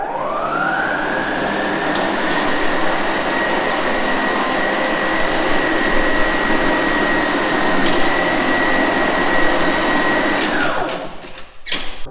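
A Toro 60V Turfmaster HDX battery lawn mower runs with its blades engaged, giving a steady electric whine that holds for about ten seconds and then winds down, with a few clicks at the end.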